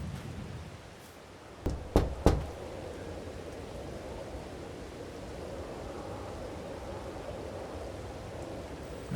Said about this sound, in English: I knocked on the door like you said